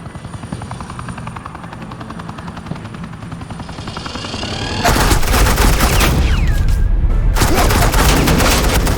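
Suppressing gunfire in Batman: The Enemy Within: a helicopter's rotor drones first, then heavy automatic fire bursts in loudly and continuously, with a brief pause near the end.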